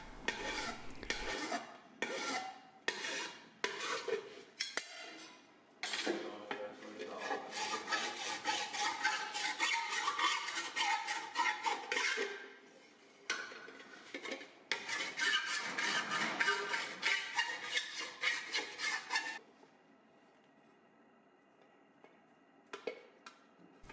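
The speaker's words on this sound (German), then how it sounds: "wird immer wieder die Oberfläche mit der Karosseriefeile bearbeitet" Repeated rasping strokes of a body file across sheet metal during surface finishing, the workpiece marked with layout dye; bursts of rhythmic filing with brief pauses, close and steady, then quiet near the end.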